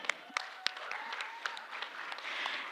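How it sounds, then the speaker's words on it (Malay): An audience applauds at a Barisan Nasional political gathering in Malaysia, with scattered sharp claps standing out over a steady, moderately faint wash of clapping that swells slightly toward the end. "Beri tepukan."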